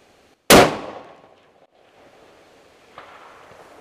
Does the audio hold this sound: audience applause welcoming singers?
no